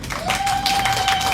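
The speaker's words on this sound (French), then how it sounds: "Encore un coup d'acclamation, s'il vous plaît." Congregation applause at a church worship gathering, a steady wash of clapping that stays loud for the whole moment, with a sustained musical tone ringing above it.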